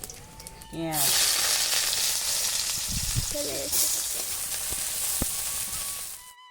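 Panch phoron spices hitting hot oil for a pumpkin and Malabar spinach curry, a sudden loud sizzle that bursts in after a moment and keeps hissing steadily, with a few spoon clinks.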